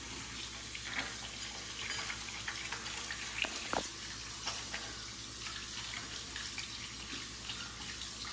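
Water runs steadily from a tap during handwashing at a sink, a continuous broadband rush with a brief splash or clink partway through, close and fairly loud.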